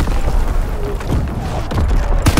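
Artillery battery firing in the Call of Duty WWII video game, heard as repeated dull booms and thumps amid a dense, noisy battle din, with heavier blasts near the end.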